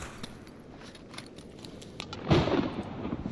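Thunder in the video game Stalker Anomaly, a low rumbling crack building near the end of the clip after a stretch of quieter game ambience with small clicks.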